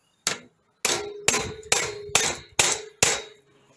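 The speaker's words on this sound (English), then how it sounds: "Now I'm going to horribly abuse a chisel." A cheap chisel is hammered through metal while a Roman-style knife is being made: seven sharp, ringing metallic clangs land close by in a steady rhythm, each one decaying briefly before the next strike, with no talking.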